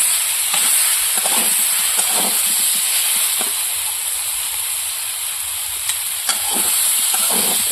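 Plantain stirred with chili powder in a hot pan for a fish curry gives off a steady loud hiss and sizzle, with occasional soft scrapes of the spoon against the pan.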